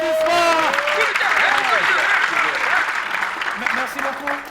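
Audience applause at a televised comedy show honoring uniformed services such as firefighters, a loud sustained burst of clapping with cheers and voices rising through it.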